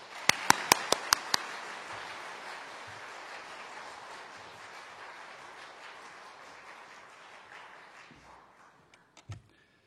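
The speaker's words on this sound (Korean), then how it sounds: "우리 나오실 때 크게 박수로 환영하겠습니다" Audience applause at a Korean church lecture welcoming a lawyer to the stage: sustained, steady clapping from a large crowd with a few sharp claps at the start, fading out near the end.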